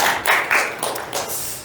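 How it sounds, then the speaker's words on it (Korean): A church congregation at Evergreen Church in New Zealand claps for the young worship team, a short burst of close, fairly loud hand clapping in uneven waves that fades within two seconds. "우리 청년들을 위해서 한번 박수를 한번 또 격려해 주셨으면"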